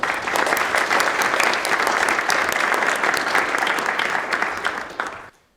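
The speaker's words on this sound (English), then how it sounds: "a round of applause for partners and sponsors" Sustained audience applause at a chamber of commerce gathering in a Ritz-Carlton Hotel ballroom, a dense, steady wash of many clapping hands lasting about five seconds before cutting off abruptly.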